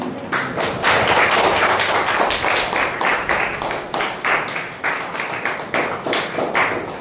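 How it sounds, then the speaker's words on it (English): A small crowd of students and club members at a school Rotary Interact ceremony claps in a loose, uneven rhythm, individual hand claps distinct and close, continuing for about seven seconds. "So give a big round of applause."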